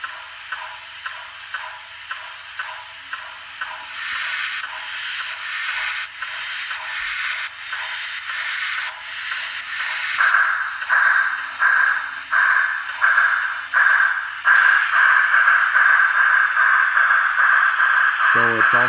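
An N scale Broadway Limited Imports Pennsylvania T1 model steam locomotive plays its sound effects: a steady, loud, repetitive chuffing with a hissing edge, rhythmically pulsing and growing denser and stronger as it moves.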